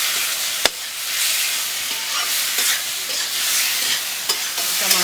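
Tomatoes with potatoes are stir-fried in a pan, loud continuous sizzling with a sharp spatula knock near the start and periodic scraping strokes, close and prominent.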